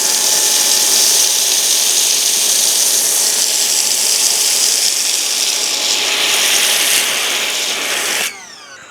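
An Ego electric pressure washer at 1 GPM sprays foam through a 1.1 orifice, a loud close continuous hissing spray that holds steady for about eight seconds before cutting off, with no talk.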